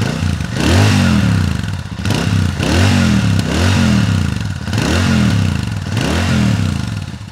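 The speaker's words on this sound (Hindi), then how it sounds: "सबसे पहले सुनिए इसका एग्जॉस्ट नोट" A Royal Enfield Super Meteor 650 motorcycle engine revs loudly and repeatedly in a steady cycle, its deep exhaust note rising and falling about five times without pause.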